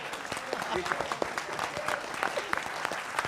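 A television debate studio audience applauds a yoga demonstration with steady clapping throughout, while voices talk over it.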